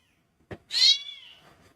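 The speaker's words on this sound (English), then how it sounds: "That cat is fucking loud." A single loud, drawn-out cat meow close by, preceded by a short sharp click, in an otherwise quiet room.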